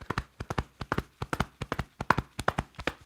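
Galloping horse rhythm imitated by percussive tapping or clicking, a quick repeating da-da-dum pattern of crisp, close hits, steady and fairly quiet, evoking hooves at a run.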